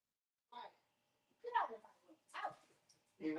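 Dogs bark outside in several separate short bursts, somewhat muffled and distant as if heard through a call, with quiet gaps between them.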